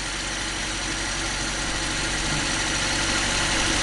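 A Volkswagen Polo barn-find engine, newly fitted with a new fuel tank and carburettor, idles steadily with a slightly uneven, low mechanical rumble and vibration, close and constant throughout.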